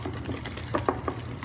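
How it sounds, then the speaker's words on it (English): A few quick, light clinks and scrapes of a whisk stirring Greek yogurt with a little liquid in a bowl, three or four close taps within a second against a soft background, no voices. "we're just gonna whisk this a little bit"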